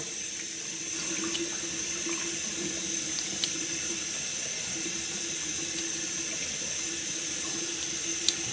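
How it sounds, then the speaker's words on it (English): Steady running tap water at a bathroom sink during a face wash, a constant broad hiss with faint splashes throughout, close and alone with no talking. "I'm just washing my face."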